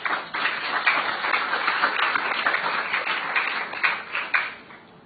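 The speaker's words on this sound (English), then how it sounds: "a big round of applause for SOMAS and Stony Brook University" Audience applause at a World Oceans Week 2022 event honoring SOMAS and Stony Brook University, a steady dense wash of many hands clapping for about five seconds before tapering off.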